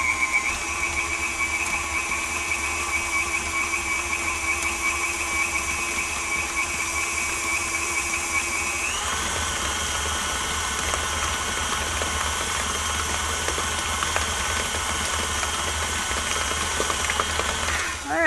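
An electric mixer whirs steadily as it beats chocolate caramel frosting for a poke cake, a continuous motor drone with a shift in pitch about halfway through, running without pause.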